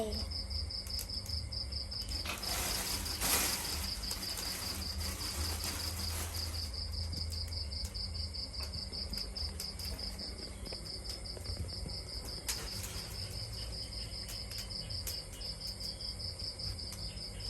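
Night chorus of insects and frogs outside, a dense steady chirring with a high trilling band throughout, a brief louder noisy burst early on, moderately distant and without speech.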